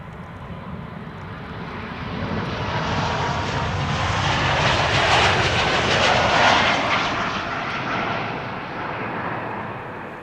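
KLM flight 1293 to Billund, a three-year-old jet registered PH-NXF that first flew in October 2021, roars past on departure from Amsterdam Schiphol, its engine noise swelling to a broad peak midway and then slowly easing off.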